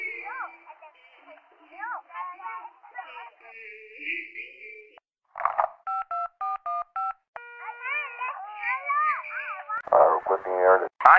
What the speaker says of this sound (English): If you can't talk, please press any digit on your phone